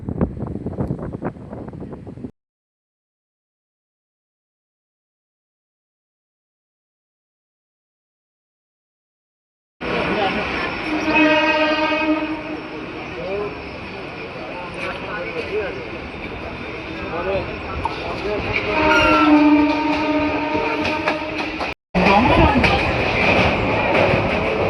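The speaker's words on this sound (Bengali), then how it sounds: "আমাদের ট্রেন এসে পৌঁছালো বিধাননগর রোড" Local train on the Budge Budge to Naihati line near Bidhannagar Road: after a brief noisy start and a long silent gap, a loud, steady carriage rumble with wind buffeting rolls on, with voices faintly mixed in.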